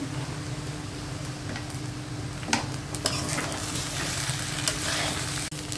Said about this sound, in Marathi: आता हे छान परतवून घेते